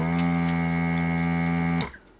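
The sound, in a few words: vacuum desoldering pump running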